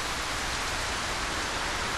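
Steady rain hisses in the Ylands survival game, an even broadband wash with no distinct drops, continuous and fairly close with no talk over it.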